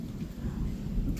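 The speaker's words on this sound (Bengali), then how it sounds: "মেঘ ডাকছে।" Low thunder rumbling under an overcast sky above a home garden, a brief, soft, deep roll heard from a distance.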